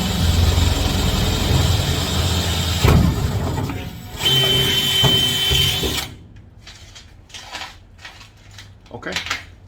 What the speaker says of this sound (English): this is going to be the first hole we're going to drill right here